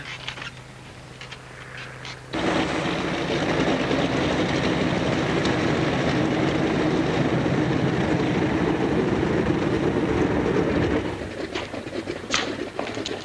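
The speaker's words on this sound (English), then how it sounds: "Say, look, the plane's in." A 1930s propeller airplane taxis in after landing, its loud engine roar rising sharply after a quieter opening and holding steady before easing off near the end.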